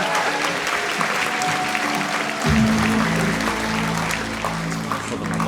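Crowd of about 700 people at a trading event bursts into dense, loud applause that holds steady for several seconds, with a low tone joining partway through.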